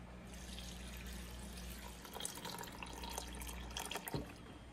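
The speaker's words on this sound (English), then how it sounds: "now I'm just gonna add some filtered water to this" Filtered water poured into a container over sea moss for making gel, a steady close trickling and splashing that runs throughout with a brief stronger gush near the end.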